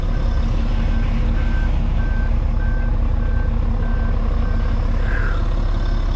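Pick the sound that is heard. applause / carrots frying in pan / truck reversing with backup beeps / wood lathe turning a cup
truck reversing with backup beeps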